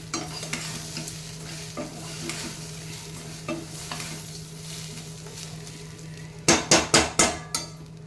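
Wheat semolina mango pulihora being stirred in a pan: a steady close scrape and soft sizzle runs throughout, closing with a quick burst of five or six sharp metallic knocks of a spoon against the pan rim.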